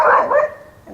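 A single dog gives a short, close bark followed by a softer trailing yelp, one brief burst outdoors where a fallen tree branch is being pulled down.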